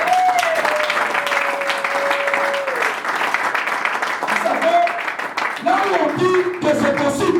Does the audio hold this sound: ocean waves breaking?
no